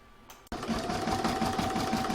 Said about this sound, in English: pop that back into my machine and stitch round number 5 to attach it